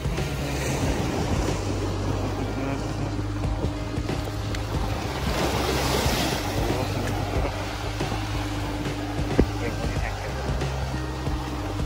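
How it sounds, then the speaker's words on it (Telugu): Sea waves wash in at Haji Ali Dargah in Mumbai, a steady roar of surf and wind buffeting the microphone, with voices talking over it throughout. "చూసారు కదా ఎలా వచ్చిందో అలా, అలాంటి అలలు వస్తాయి అన్నమాట."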